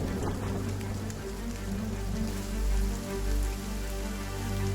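Monsoon rain falls steadily across the Indian subcontinent as a dense, even hiss with a soft low rumble beneath, unbroken and free of voices.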